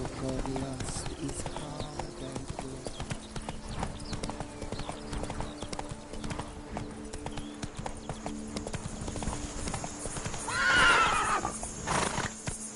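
A horse in a PS4 video game trotting with a steady clip-clop of hooves throughout, then letting out a loud neigh near the end, with a voice talking over it.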